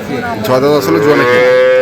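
A young Jersey calf moos loudly and close by at a cattle market, one drawn-out wavering call that rises and holds.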